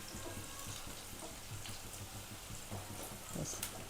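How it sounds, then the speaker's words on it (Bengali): Bitter gourd leaf pakoras fry in oil over a medium flame, giving a steady, close sizzle with scattered small pops and crackles throughout and no talk. "ব্যাস এরকম করে সবকটা আমি ভেজে নেব।"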